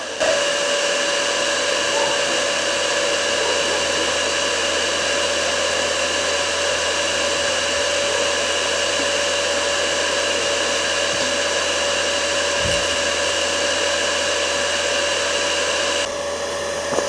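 A cooler fan on a homemade cold smoker for smoking fish runs as a steady, loud whirring drone that holds unchanged for the whole stretch, shifting slightly just before the end.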